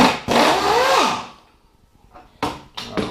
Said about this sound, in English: This one was pretty tough, so I used the air wrench